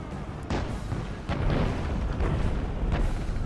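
Artillery unit firing a couple of shots in a large-scale battle game: a few dull, muffled booms at irregular intervals over a steady low rumble of battlefield ambience, with no voices.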